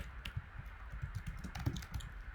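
Typing on a computer keyboard, a quick run of soft, close key clicks in an irregular rhythm, faint and alone.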